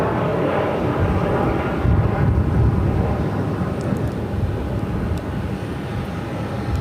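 An airliner taking off at Phoenix airport, its engines a broad, steady roar that swells slightly midway, loud and continuous with faint high clicks above.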